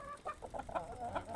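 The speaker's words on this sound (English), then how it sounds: "You get to see the chickens." Chickens cluck in the video game Breathedge, a short run of close, distinct clucks and bursts of fowl calls with no talking over them.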